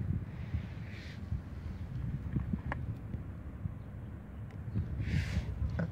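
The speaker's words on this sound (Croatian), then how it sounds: "Vjetar puše." Wind blowing outdoors, a low faint continuous buffeting rumble across the microphone with a few soft thuds and rustles, no speech.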